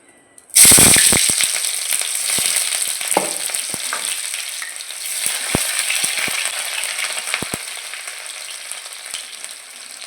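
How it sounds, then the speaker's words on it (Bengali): Chopped onion dropped into hot oil in a wok bursts into a sudden loud sizzle, then settles into steady crackling frying with scattered sharp pops that slowly fade. "কড়াইতে আমি আবারও তেল দিয়ে দিয়েছি তেলের ভিতর ছেড়ে দেবো পেঁয়াজ কুচি"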